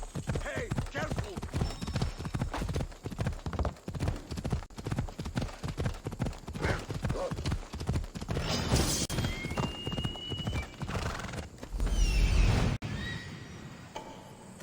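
Horse hooves clip-clop steadily in Assassin's Creed Odyssey, joined by a whinny from the horse, all under ongoing game dialogue and background sound.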